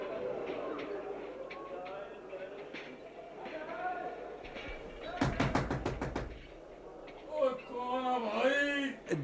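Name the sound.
knocking on a door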